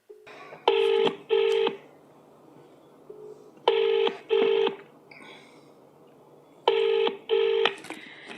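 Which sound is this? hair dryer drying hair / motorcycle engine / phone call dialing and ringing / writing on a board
phone call dialing and ringing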